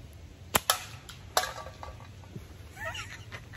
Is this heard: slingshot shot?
yes